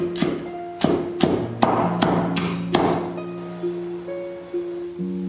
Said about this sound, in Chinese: 小葱切成段